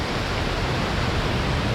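Waterfall in Luang Prabang, a steady broadband roar of falling water filling the scene, loud and continuous with no breaks.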